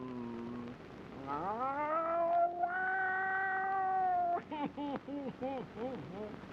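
A drawn-out, wavering cat meow from the Cheshire Cat in the 1931 film Alice in Wonderland, followed by a quick series of shorter pulsing meow-like calls, likely voiced by a person imitating a cat.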